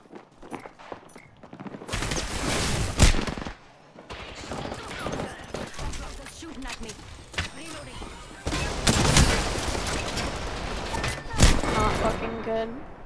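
Gunfire in Apex Legends, with bursts of rapid shots and heavy fusillades breaking out several times over the match's ambient din, punctuated by thuds and footsteps, while a player talks over the action.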